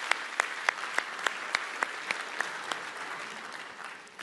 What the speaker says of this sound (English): A ripple of laughter through the room and a round of applause.